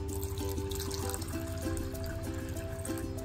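Water pours into a toy cup, a close trickling stream whose pitch rises steadily as the cup fills.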